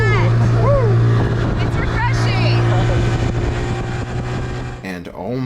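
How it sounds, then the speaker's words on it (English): A motorized dinghy carries people from an anchored boat to shore, its outboard droning steadily and loudly up close while voices talk and call out over it, the motor cutting abruptly near the end. "After anchoring, we used the dinghy to take us the rest of the way there."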